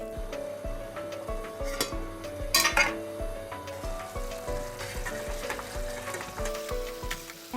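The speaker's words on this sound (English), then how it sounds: "onion kebab will be cooked with this fire" Onion kebab sizzles steadily over an open fire, a dense continuous hiss with scattered clinks and scrapes of cookware, plus a brief louder burst of crackle midway; no voices.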